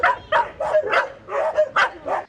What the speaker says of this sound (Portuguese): São quase 30 cachorros dividindo o mesmo espaço